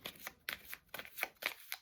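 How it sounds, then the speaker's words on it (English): Tarot cards being shuffled by hand in several quick riffling bursts, close and soft, with no voices. "Mix the two together. Shuffle."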